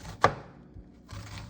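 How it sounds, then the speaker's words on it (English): A knife chops through chicken on a board with one sharp, close thunk, followed by quieter scraping and a second softer cutting sound near the end. "After you do that for the whole thing, you gotta cut like this."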